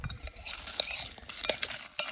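Fried shrimp stirred into a mixture of mayonnaise, honey and sweetened condensed milk at a desert campsite, with soft sticky stirring and a few light clinks of a utensil against a bowl, close and quiet.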